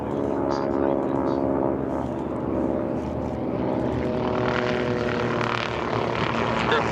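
A warbird aircraft coming straight down the runway at EAA AirVenture, a steady, loud piston-engine propeller drone that holds throughout, with talk over it.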